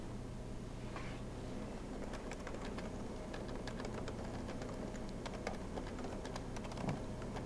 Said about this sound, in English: while the disk is formatting, I will actually go and type a memo.